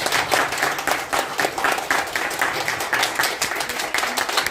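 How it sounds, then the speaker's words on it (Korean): An audience at a press conference claps in steady, dense applause that holds at an even level, with no voices over it. "우리 크게 박수 한번 쳐주십시오"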